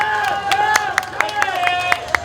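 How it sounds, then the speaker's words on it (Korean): A crowd at an outdoor election campaign rally at a Gurye market claps in quick, rhythmic bursts, with an amplified voice talking over the applause. "박수 한번 쳐주십시오."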